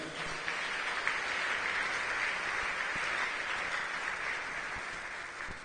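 A church congregation claps in a steady, sustained round of applause that fills the room evenly and tapers slightly at the end.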